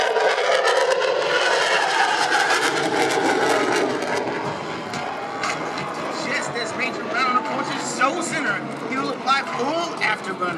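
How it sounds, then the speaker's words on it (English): An F-16 Fighting Falcon on full afterburner at the Singapore Airshow 2016 gives a loud, broad jet roar that fades away, with a voice over the noise. "Full afterburner, demonstrating the F-16's awesome thrust-to-weight ratio"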